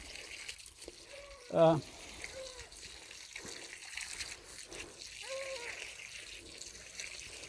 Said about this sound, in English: over here watering tomatoes now